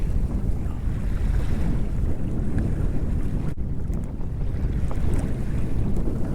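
Strong wind buffets the microphone over a Hobie Outback sailing kayak in choppy water, a constant low roar with water washing against the hull.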